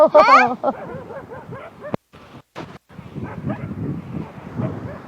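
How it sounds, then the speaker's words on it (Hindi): A dog gives a few sharp barks and yips near the start, followed by wind buffeting and quieter rustling outdoors. "कुत्ते मेरे को देख के भौंक रहे"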